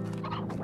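Short clucking from chickens in Slime Rancher, a few quick fowl calls over a steady game music drone.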